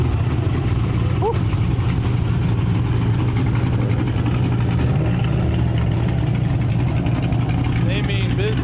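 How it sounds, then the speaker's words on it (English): A big turbocharged Toyota Supra rumbles at idle with a low, steady throb at a car meet, while people talk over it throughout. "There's that big turbo Supra."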